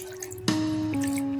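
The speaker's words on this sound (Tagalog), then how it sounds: "Maglalagay po tayo ng kalahating tasang tubig." Half a cup of water poured into cooking oil for Spanish-style tamban sardines, starting with a sudden splash and settling into a steady, close pouring and sizzling wash with a rising tone, no talk.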